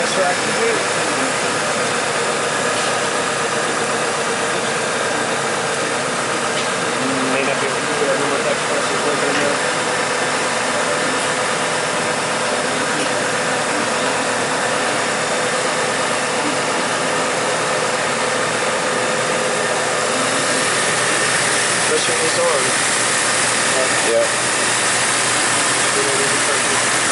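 A Chevy Trailblazer engine runs steadily with its AC compressor engaged. The broad, even mechanical drone holds loud and close without a break.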